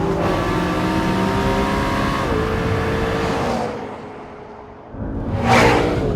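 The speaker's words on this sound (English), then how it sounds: "The McLaren stops really well and wanders just a little bit in the process." A McLaren 650S Spider sports car drives at speed with a loud, close engine roar that drops away as it brakes, goes briefly quieter, then surges back with a rising whoosh.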